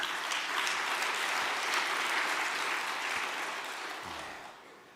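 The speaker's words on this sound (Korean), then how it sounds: "박수 한번 부탁드리겠습니다" An audience at an all-night prayer training gathering claps steadily and loudly for about four seconds, the applause thinning and fading toward the end.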